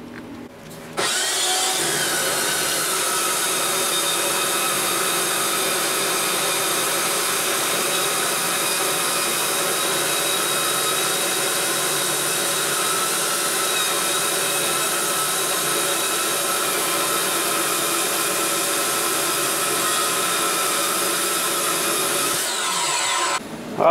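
A power tool cuts through a metal piece being prepared for welding, a continuous loud, steady grinding whine that starts abruptly, runs unbroken for over twenty seconds and then cuts off; no talking.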